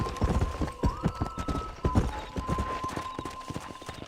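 A horse gallops in the video game Red Dead Redemption, rapid rhythmic hoofbeats pounding close and clear over a sustained tonal game sound, with faint speech underneath.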